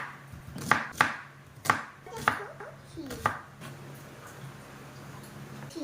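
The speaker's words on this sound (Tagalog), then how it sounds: "Last kong hinihiwa is yung sibuyas kasi sobrang sakit niya sa mata." A knife chops a white onion on a cutting board, a handful of crisp, irregular knocks close by, then quieter scraping and a soft voice in the background.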